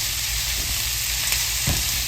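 Raw sausage pieces sizzle steadily in a pan for a breakfast bake, a constant close frying hiss with small pops, no talking.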